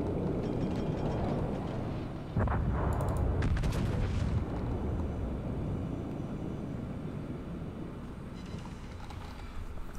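Heavy warship guns in World of Warships fire in a booming salvo partway through, over a steady low rumble of engine and sea noise, with no voices.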